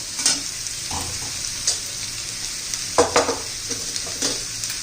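Bottle gourd pieces sautéing in a pan for a home-style curry, a soft steady sizzle broken by several scraping stirs of a spatula, close and moderately loud with no talk.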